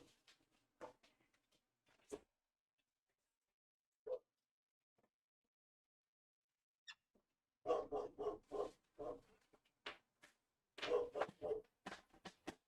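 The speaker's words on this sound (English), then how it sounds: "I'm going to shut my window in hopes that it shuts that dog up" A dog barks outdoors beyond a closed window, muffled and fairly distant, with scattered single barks early on and then a quick burst of repeated barking toward the end amid long quiet gaps.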